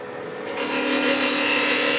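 A wood lathe spins a contrasting-wood box blank while a tool cuts a tenon, a steady scraping, rasping cut that swells after a quiet start and continues loud and close without speech.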